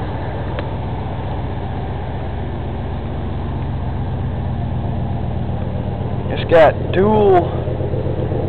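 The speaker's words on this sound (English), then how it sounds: "custom dual glass packs that ain't burnt out yet, so it sounds real good" A 1983 GMC Sierra 3500 dually pickup idling through custom dual glass pack exhaust, a steady low rumbling burble throughout, with someone speaking briefly near the end over the engine.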